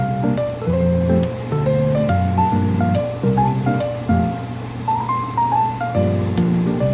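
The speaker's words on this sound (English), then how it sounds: "Adding 1 can of carnation milk, 3 cups of milk" Carnation canned milk and plain milk are poured into a pot for vermicelli, making a steady splashing stream that runs throughout under louder background music.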